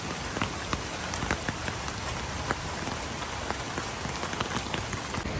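Rain falls steadily on a beach in a Caribbean coastal national park, a dense even patter with scattered sharper drop hits, heard alone with no talking.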